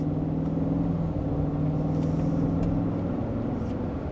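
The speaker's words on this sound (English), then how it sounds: "We are in sport mode with a small acceleration" A 2024 Cadillac Escalade driven in sport mode pulls away gently, its engine rumbling as a steady low drone heard from inside the cabin, with no voices over it.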